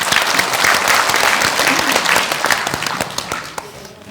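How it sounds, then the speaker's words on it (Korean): Audience applause at a public forum, loud dense clapping from a hall full of people that fades gradually toward the end. "박수 한번 부탁드리세요"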